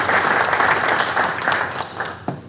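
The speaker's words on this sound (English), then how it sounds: "Can we give them a round of applause?" A dinner audience applauds scouting volunteers at an awards banquet, dense, loud clapping filling the room and tapering slightly toward the end of a short burst.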